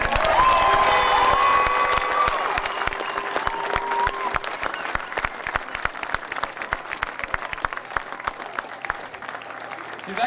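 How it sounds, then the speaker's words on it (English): At a 2008 county final celebration, a crowd claps for the team physio in sustained, lively applause that slowly thins out, with a voice and a few cheers at the start. "I'd like to give her a great round of applause"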